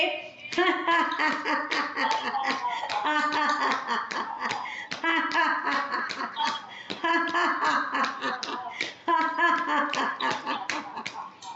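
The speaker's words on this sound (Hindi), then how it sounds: "फिर ढोलक ताली बजाएंगे।" Rhythmic dholak-style hand clapping in a laughter exercise session, with brisk repeated clap patterns interleaved with laughter and chuckling, close and steady throughout.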